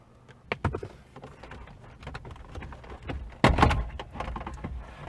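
Prying out the stock radio trim panel of a Honda Fit, a series of close plastic clicks, snaps and creaks in irregular bursts, with one louder crackling release near the end.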